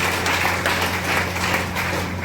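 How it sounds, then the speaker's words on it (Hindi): Hall audience at a large business meeting clapping loudly in a continuous, dense roar of applause, with an electrical hum beneath it throughout. "सभी के लिए जोरदार तालियां चाहेंगे"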